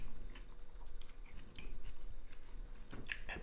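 Someone chews a big bite of crunchy campanelle pasta with shrimp and broccoli rabe close to the mic, with soft wet crunches and occasional brighter bites over a quiet background.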